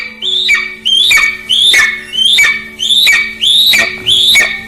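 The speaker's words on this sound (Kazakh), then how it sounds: "Бүркітше саңқылдай бастайды." An eagle screeches over and over through a playback speaker, sharp rising-and-falling cries coming in a steady rhythm about once a second, loud and close.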